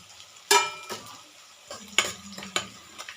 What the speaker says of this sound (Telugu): దీన్ని బాగా ఫ్రై చేసుకోవాలి.